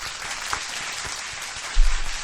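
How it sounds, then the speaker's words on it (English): Applause from a small group during a podcast taping, a steady wash of clapping throughout, fairly soft, with a louder low rumble near the end. "Now we all got to give him a round of applause."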